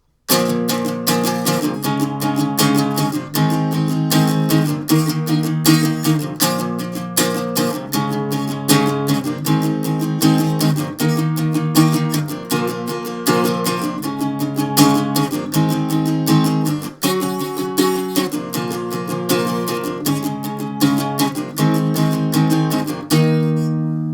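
An acoustic guitar strums the chorus of a song in steady, rhythmic chord patterns. The strummed bursts repeat loud and close for the whole passage, with no one speaking.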